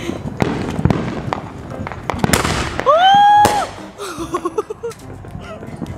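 Firecrackers set off outdoors, a rapid series of sharp cracks and pops, loud and close, with a shrill whistling streak mid-burst and a voice exclaiming between the bangs.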